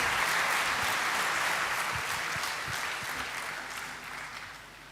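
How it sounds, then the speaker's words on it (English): Applause for degree awardees at the 48th undergraduate convocation of IIT Kanpur: a hall full of people clapping in a thick, even roar that gradually softens over the last seconds. "I would request the audience for a big round of applause for all the degree awardees"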